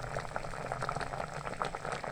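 Carrot murabba syrup boiling in a pot, a steady close bubbling and popping simmer, quiet and continuous with no voices.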